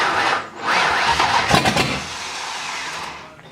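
Ford Mustang drift car engine cranking without catching: a loud, close starter whir that dips briefly, then grinds on and fades without the engine firing.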